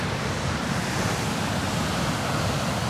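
Close by at the foot of a powerful waterfall near Antalya, Turkey, water pounds down in a dense, steady roar that stays loud and unbroken, with no voices.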